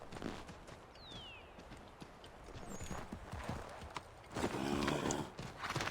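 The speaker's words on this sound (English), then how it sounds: "You actually whistled a horse for me." A horse in a video game trots in at a clip-clop after being whistled for, hooves approaching and growing louder toward the end, with a brief whinny, under an ambient game background.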